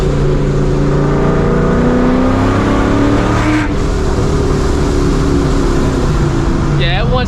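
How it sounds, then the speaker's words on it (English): A supercharged New Edge Mustang GT with long tube headers pulls hard from inside the cabin, its loud engine note climbing through the revs, easing briefly at a shift, then building again. "Once you start getting in the higher RPMs, it wants to go, and it's loud too"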